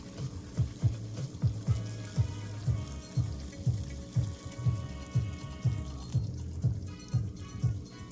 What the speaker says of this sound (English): And then we pour in a ton of water.